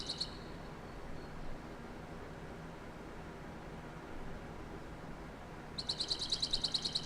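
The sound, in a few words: birds chirping in a video game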